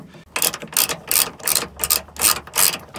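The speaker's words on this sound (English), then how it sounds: "Removing the top bolts here." A hand ratchet loosening the top bolts of a car's trunk strut, with about six rapid clicking bursts in steady back-and-forth strokes, loud and close with no talking.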